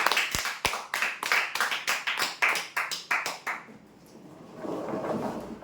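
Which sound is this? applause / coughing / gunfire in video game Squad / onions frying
applause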